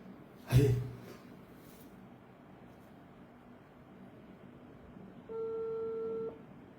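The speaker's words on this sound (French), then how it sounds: "Le téléphone sonne, hein, les gars." A phone line on an outgoing call gives one steady ringback tone about a second long, faint and alone, after a sharp knock near the start.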